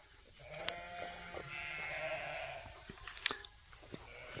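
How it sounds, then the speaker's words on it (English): Goats and sheep on a wooded pasture being turned into grazing land, with a faint animal bleat in the background amid quiet outdoor ambience and a few small knocks and clicks. "there's goats and sheep everywhere"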